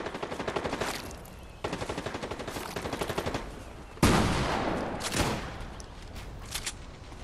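Rapid bursts of Fortnite gunfire crackle in quick succession, pausing briefly before another loud volley breaks out, then fading into echoing shots with no voices.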